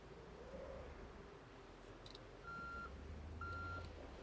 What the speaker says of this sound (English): Oh my god, it has a backup noise!